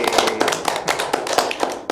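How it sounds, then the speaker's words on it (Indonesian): Hands clap in a quick, sharp burst of repeated taps, close and bright, the sound of a small audience applauding at a children's program with no talk over it. "Kita kasih tepuk tangan buat mereka bertiga"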